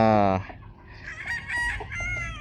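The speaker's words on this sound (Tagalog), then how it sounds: "Ito yung mga manok." A rooster's crow ends abruptly, followed by several hens clucking and calling nearby on a backyard game farm, irregular and fairly close.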